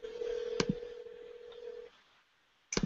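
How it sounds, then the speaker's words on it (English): A phone call on a handset gives a steady electronic tone broken by short beeps. It drops into near silence before another clipped burst near the end, all quiet and thin, with no talk. "I'm calling you. Here's proof. It's ringing."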